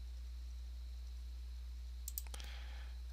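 Several quick mouse clicks sound in a burst while wiring a voltmeter in the Tinkercad circuit editor, faint and close over a steady low hum.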